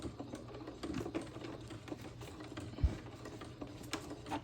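A Singer sewing machine stitches in quiet, uneven bursts, with faint mechanical whirring and small ticks and a sharper knock near the end, all soft and close by.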